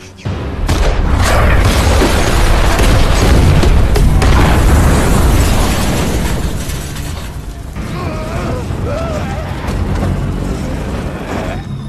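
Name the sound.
car explosion in a film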